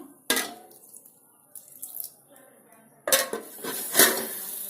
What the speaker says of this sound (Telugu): ఇప్పుడు మళ్ళీ నేను నీళ్ళ మూత పెడతాను